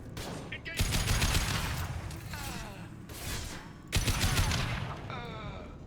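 Gunfire in the Mass Effect 2 video game, rapid bursts of shots in two clear volleys, loud and close, with dialogue heard in between.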